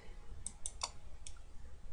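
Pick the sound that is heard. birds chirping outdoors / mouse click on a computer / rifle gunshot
mouse click on a computer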